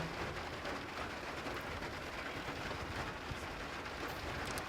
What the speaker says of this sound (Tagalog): naulan, grabe naulan ayan